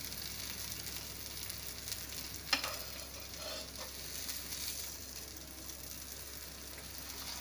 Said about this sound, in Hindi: दोनों साइड बटर लगा के आप इसको सेकिए